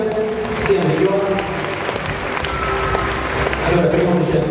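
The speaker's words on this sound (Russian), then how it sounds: "Аплодисменты всем регионам," An audience applauds at a regional bodybuilding championship opening ceremony in Tyumen, a steady wash of clapping from a large hall crowd with some crowd noise mixed in.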